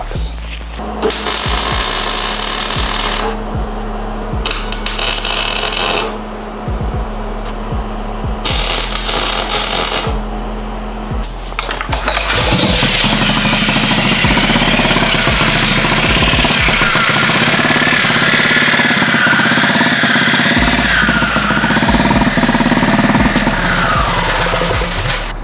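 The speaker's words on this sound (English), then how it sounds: "Sounds like the shield is hitting the flywheel." A minibike engine runs loudly and continuously, with a harsh rattling, clattering rhythm from its shield hitting the flywheel; the pitch shifts partway through.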